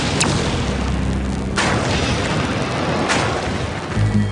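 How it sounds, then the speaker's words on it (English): Hydrogen explosion blowing out the top of Unit 3 at the Fukushima nuclear plant, a few deep booming blasts over a constant rumbling background. "a hydrogen explosion blows out the top of Unit 3"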